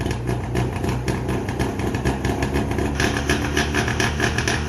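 A two-stroke car engine idles steadily while warming up, a continuous rough, throbbing run with a crackly edge, close by and alone without talk.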